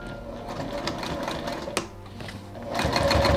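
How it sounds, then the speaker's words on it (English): A sewing machine top stitches a bag seam, running in a steady fast whir with a brief pause and a sharp click partway through, then restarting louder and close by. "And now we top stitch that seam there."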